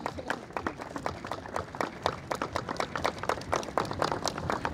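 A crowd of young people claps steadily at the end of a PAS Youth march through the streets, a dense run of sharp handclaps with no voices over it.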